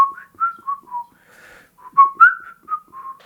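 A person whistles a short, lilting tune alone, in clear, close, clipped phrases with brief pauses between them.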